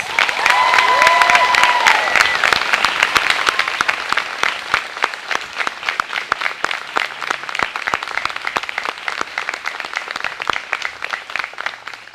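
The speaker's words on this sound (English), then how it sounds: "Can we give them a round of applause?" A school ceremony crowd applauds student leaders, a loud, full burst of clapping with a few cheers at the start, then settling into sharper individual claps that continue steadily for about twelve seconds.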